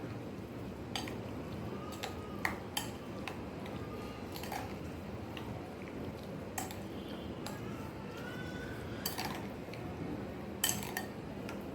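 Brinjal bharta being stirred with coriander and salt in a pot, soft squishy mixing with scattered clinks and taps of a spoon against the vessel, steady and close.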